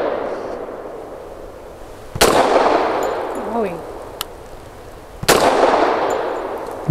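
Two sharp, loud pistol shots from a Grand Power P45L firing 230 grain jacketed hollow points ring out about three seconds apart, each with a ringing tail, amid faint background noise.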